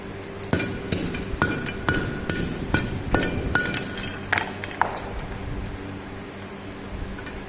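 Metal ring being hammered to finish its half-round shape in a forging shop, with sharp ringing blows at an irregular pace of roughly one to two per second, close and loud over a steady workshop hum.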